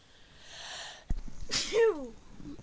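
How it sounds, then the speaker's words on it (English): A single sharp human sneeze bursts out after a short intake of breath, close and loud, followed by a brief trailing vocal sound. "I had to sneeze really bad."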